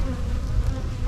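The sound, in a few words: buzzing honey bees at a hive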